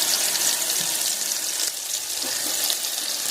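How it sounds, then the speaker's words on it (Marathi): Masala frying in two spoons of hot oil in a heated kadhai, a steady bright crackling sizzle that holds constant throughout, close and fairly loud with no talking. "मसाल्याला तडकं बसतंय बघा"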